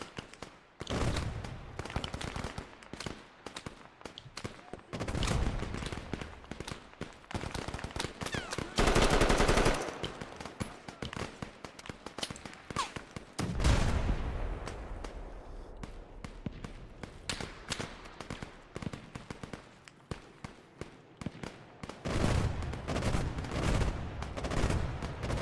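Enemy machine gun fire in the military shooter Arma 3, set in a Kosare battle: sustained bursts of automatic gunfire, loud and close, rattling in repeated volleys with brief pauses across the whole stretch.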